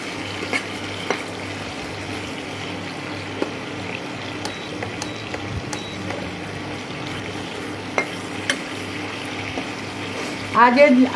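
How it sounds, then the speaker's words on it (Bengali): Paneer (chhana) fries lightly in a pan, a low, steady sizzle in the background with a few faint clicks and a brief louder burst of activity near the end. "এটাকে খুব বেশি ভাজবেন না, পনিরটা খুব হালকা করে জাস্ট একটা এপিট মানে একবার এদিক একবার ওদিক করে নেড়ে নিলেই"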